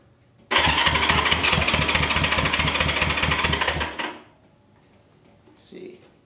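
A 1973 Honda CB350 motorcycle engine fires up and runs loudly with a fast, rhythmic pulsing beat for about three and a half seconds, then cuts out abruptly, leaving near silence.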